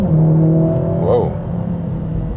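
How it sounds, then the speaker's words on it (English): The four-cylinder engine of a Mercedes-AMG GLA 45 S drones steadily from inside the car under load, its exhaust note holding a sustained tone with a brief rise in pitch midway before settling back. "Also some blubbering sound from the exhaust."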